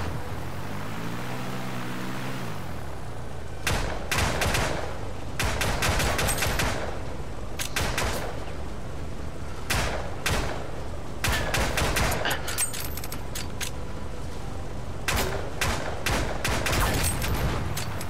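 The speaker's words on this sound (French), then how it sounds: "Oh merde, ça tire partout là." Bursts of gunfire erupt from many directions in the VR shooter Hover Junkers, repeated sharp volleys and machine-gun rattles spread across the scene, loud and continuous with no talking.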